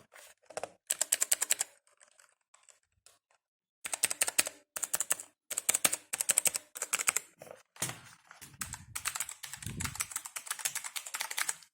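Rapid clicking on a Genesis Thor 200 RGB computer keyboard comes in close, loud bursts separated by brief pauses.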